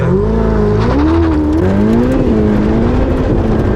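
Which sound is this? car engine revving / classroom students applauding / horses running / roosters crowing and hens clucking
car engine revving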